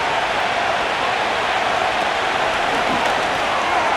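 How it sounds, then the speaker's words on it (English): Roaring stadium crowd noise in the Madden NFL 25 video game, a Buffalo Bills versus Miami Dolphins matchup heading into third down, as a steady, dense wash of cheering throughout without pauses. "This crowd into it now as we get to 3rd down."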